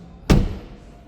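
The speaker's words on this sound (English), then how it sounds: "let's shut this door" A single solid thud as the door of a 2026 BMW M440i xDrive Gran Coupe is shut, close and sharp, then quickly fading.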